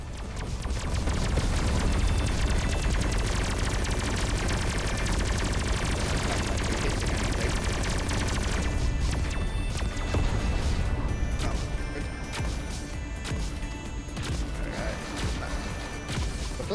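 Cannon fire in the video game Everspace 2 booms and crackles in dense, continuous bursts amid clattering impacts and background music, loud and busy throughout.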